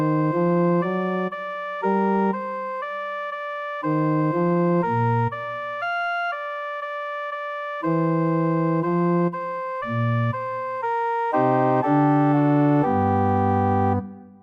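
A sparse Bach chorale harmonisation outline, organ-like sustained chords moving note by note with gaps and brief pauses between phrases, steady and moderately loud with no talking.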